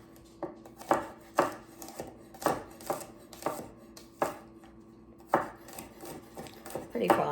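A knife mincing fresh garlic on a cutting board makes a dozen or so crisp, close chopping taps in an uneven rhythm, ending with a short scraping sound.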